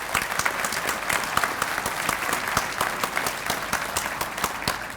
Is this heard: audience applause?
yes